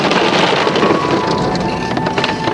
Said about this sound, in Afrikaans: En hier reën dit.